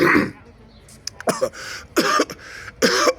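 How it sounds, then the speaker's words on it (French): Someone coughs several times in short bursts, with brief pauses between each cough, close and fairly loud. "Excusez-moi, je tousse un peu."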